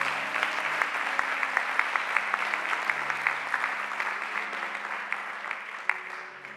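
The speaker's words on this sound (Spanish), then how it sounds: "Denle un aplauso al Señor." A church congregation breaks into steady applause, a dense wash of many hands clapping at medium distance with a few sharper claps standing out, gradually tapering toward the end.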